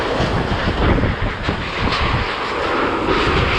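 Strong typhoon wind roars in gusts close by, a loud broadband rush that swells and eases without pause, with no voices over it.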